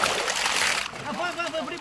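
Water pours and splashes as a large cooking pot is drained outdoors in a village kitchen, a loud rushing splatter that eases into lighter sloshing and trickling, with voices talking over it.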